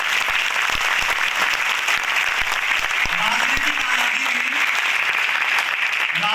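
A large audience at a business gathering claps continuously, a dense steady wash of applause lasting throughout, with a voice speaking faintly underneath.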